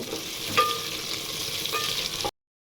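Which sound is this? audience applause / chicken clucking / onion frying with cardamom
onion frying with cardamom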